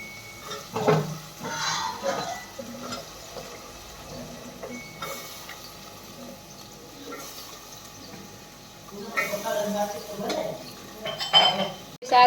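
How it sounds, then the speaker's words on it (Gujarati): Vegetables for undhiyu are tipped into a pot with cooked tomatoes and stirred, giving bursts of clattering utensils and scraping against metal between quieter stretches, with no one speaking. "ટમેટા ચડી ગયા છે, હવે આપણે એમાં બધી શાકભાજી એડ કરી દઈએ."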